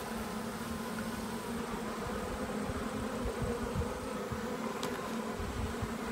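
Honey bees buzz in a dense, steady drone around an opened hive frame, a continuous close swarm hum filling the whole stretch with no voices.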